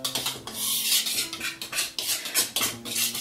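Pancake ingredients for buttermilk pancakes being mixed in a bowl, with rhythmic close scraping and clinking strokes of a utensil repeating in quick uneven bursts, with no talking.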